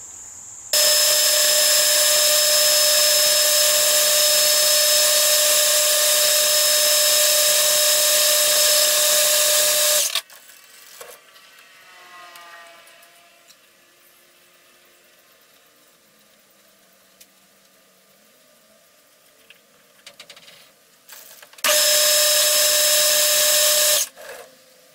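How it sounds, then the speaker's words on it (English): A lathe cuts a thread for a Stuart Turner No. 8 mill engine piston, running with a loud steady whine for about ten seconds, falling to quiet workshop sounds, then starting up again near the end. "So I'll machine the other thread now for the piston and then we're done."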